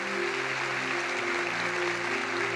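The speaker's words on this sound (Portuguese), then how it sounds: "Você pode aplaudir Jesus por isso?" A church congregation applauds during a sermon, a steady, dense wash of clapping held at an even level throughout, with sustained musical tones ringing underneath.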